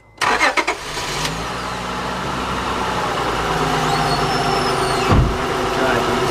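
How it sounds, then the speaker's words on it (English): A 2003 Honda Odyssey van's engine starts and settles into a steady idle, holding a continuous low rumble close by, with a brief louder surge near the end. "I'm just gonna run the motor. Let the oil go through it a little bit."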